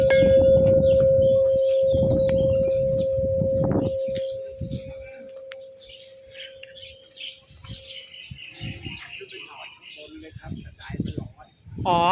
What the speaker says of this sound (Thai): เดี๋ยวมาตีะระฆังขอพรกันค่ะ